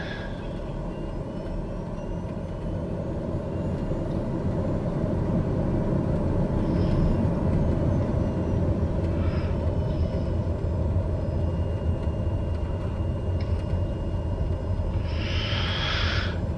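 Airliner taxiing in Microsoft Flight Simulator at Quad City International, a steady low engine rumble and hum throughout with a few faint higher tones, no voices.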